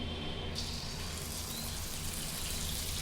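Semolina and jaggery boorelu fry in hot oil, making a dense, continuous sizzling hiss that stays even and close throughout.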